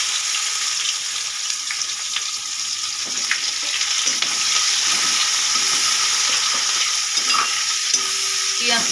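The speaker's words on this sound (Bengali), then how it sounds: "এবার দিয়ে দেবো পেঁয়াজ কুচি" Chopped onions frying in a pan with very little oil, giving a steady close sizzle throughout with stirring scrapes and small clinks over it.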